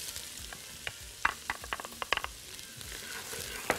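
Chopped onion frying in ghee for cooked kishk, a steady soft sizzle punctuated by sharp crackles and pops, close by and alone with no voices.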